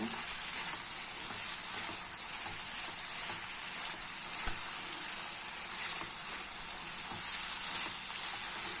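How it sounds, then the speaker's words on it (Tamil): Paneer pepper masala simmering in a pan, a steady close sizzle and bubbling hiss that runs unbroken throughout with faint occasional pops. "ஒரு ரெண்டு நிமிஷம் சிம்லேயே இருக்கட்டும் இந்த மசாலாலாம் அந்த பன்னீருக்குள்ளே போகட்டும்"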